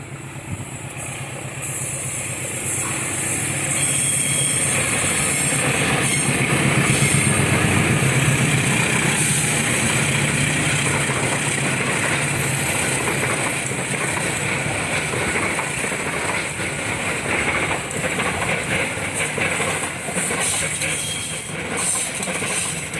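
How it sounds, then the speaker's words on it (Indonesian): A loud, sustained rumble of the Kamandaka passenger train passing on its way to Semarang in Indonesia, with rattling wheels and clatter, rolling on steadily for over twenty seconds. "Demikian tadi kereta api Kamandaka yang akan menuju ke kota Semarang."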